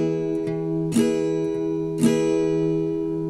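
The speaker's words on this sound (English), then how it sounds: "a pluck and a down strum." An acoustic guitar rings with a sustained chord, broken twice by a single pluck followed by a quick down strum, close and moderately quiet, with no voices.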